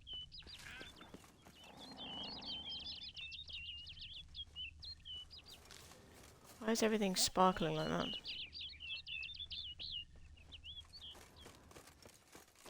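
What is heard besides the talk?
bird chirping in video game Witcher 3: Wild Hunt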